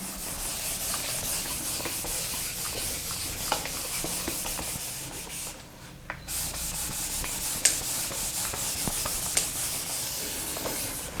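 Writing is rubbed off a board with steady, close scraping strokes that continue for about eleven seconds, with a brief pause midway and no talking.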